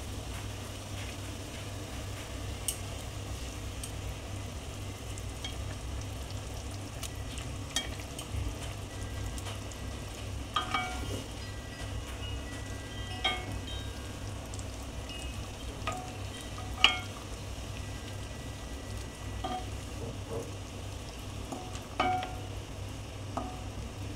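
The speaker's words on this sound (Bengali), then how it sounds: "এবার আমি পুরো ঝিঙেটাকে আমি এর মধ্যে, ঝোলটা ফুটছে এর মধ্যে আমি ছেড়ে দেবো" Stuffed ridge gourd simmering in boiling broth gives a steady bubbling sizzle with scattered soft pops and clicks, close and continuous throughout.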